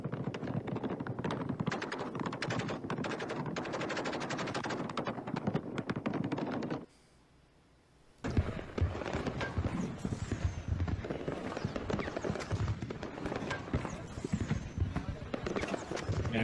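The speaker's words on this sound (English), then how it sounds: "hear the bullets getting closer. Zinging by." Gunfire in war footage from Yemen: dense, continuous crackle of shots and impacts, loud and close, running steadily for several seconds, then a brief near-silent gap before the barrage resumes just as heavily.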